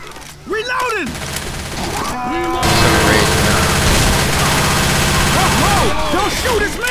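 Heavy gunfire in Left 4 Dead 2 erupts after a short stretch of voices and continues as dense, loud rapid bursts and sustained automatic fire, with shouted voices over the shooting.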